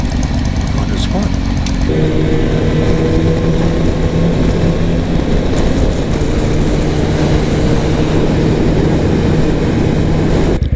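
Suzuki TL1000R motorcycle being ridden out of the city, a loud, steady engine rumble with wind noise, shifting to a new steady tone partway through, with talking over it.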